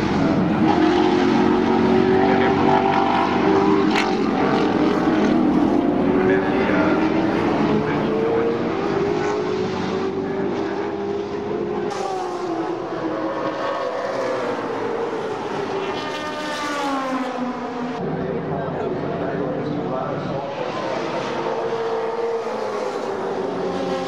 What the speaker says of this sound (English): Just following Jason Richards around turn 9 at the moment.